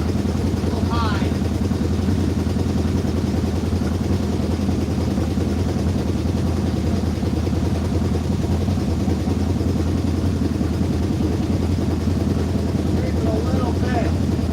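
An engine idles a little high in an auto repair shop, a steady loud droning rumble that holds constant throughout, with faint chirps now and then.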